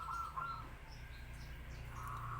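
A songbird kept for singing competitions chirps faintly in a quiet room, a few short high calls at the start and a brief note near the end over low background hum.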